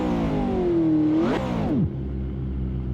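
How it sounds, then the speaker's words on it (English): McLaren race car engine in the Assetto Corsa racing game revving hard, pitch climbing to a sharp peak, then dropping away with a downshift and settling into a lower steady drone. "Listen to that engine, man."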